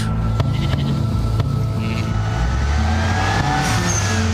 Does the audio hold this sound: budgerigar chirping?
no